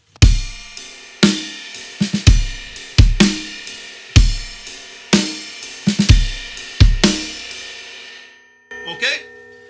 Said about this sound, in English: you're going to have a drag or a wee double